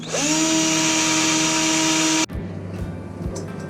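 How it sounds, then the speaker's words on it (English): A small Ryobi power drill whines loudly and steadily against a strong steel door, then cuts off abruptly, followed by a few dull knocks. "so I was not able to drill through that"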